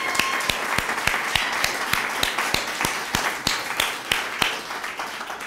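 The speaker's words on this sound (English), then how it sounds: "let's give him a huge round of applause for his leadership" An audience at a studio groundbreaking event applauds, with loose individual claps standing out sharply from a thin, modest crowd, steady and fairly near.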